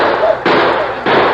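Gunshots in a 1940s radio drama battle scene, three loud, bursting reports in quick succession, close and harsh.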